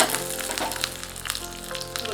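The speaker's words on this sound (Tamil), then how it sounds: "அரை டீஸ்பூன் கடுகு சேர்த்துக்கலாம் கடுகு பொரியட்டும்" Mustard seeds splutter and pop in hot oil while tempering for rasam, a close, steady sizzle broken by sharp crackling bursts.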